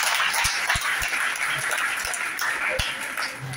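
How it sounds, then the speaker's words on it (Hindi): Audience applause at a student symposium in a college hall, a broad clapping wash with a few distinct sharp claps and a speaker's voice heard over it. "जोरदार तालियां।"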